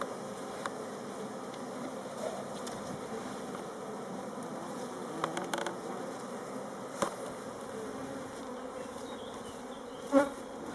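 A honeybee swarm being moved from a nucleus box into a hive hums steadily and close, a dense continuous buzzing with a few louder individual bees passing near.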